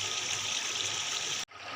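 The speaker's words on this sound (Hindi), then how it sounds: "अब हम इसमें पानी ऐड करेंगे।" Water gushing steadily onto fried beef in a large commercial biryani pot, a dense close pouring rush that cuts off abruptly near the end, then briefly resumes.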